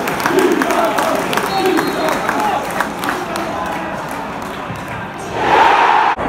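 A football crowd at a Stoke City versus Swansea City match claps a sent-off player walking slowly off, scattered applause and crowd noise under nearby talk, with a louder surge of cheering at the end.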